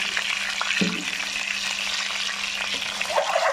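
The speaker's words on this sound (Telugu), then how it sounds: "ఈ ఆయిల్లో మంచిగా డీప్ ఫ్రై అయితే చాలా టేస్ట్గా ఉంటుంది ఎగ్" Eggs deep frying in hot oil with turmeric give a steady, close crackling sizzle that runs throughout, with a brief clink or stir near the start and no voices.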